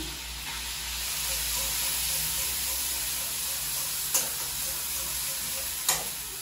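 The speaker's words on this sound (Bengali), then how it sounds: "আদা জিরে বাটাটা দিয়ে দিচ্ছি বাটারের মধ্যে" Ginger and cumin paste sizzles in melted butter with a steady, close frying hiss, broken by a couple of brief sharp clicks from a spoon against the pan.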